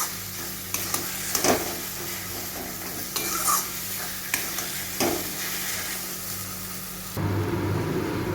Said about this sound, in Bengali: এই মশলাটা এর সাথে ভালো করে মিশিয়ে নেব।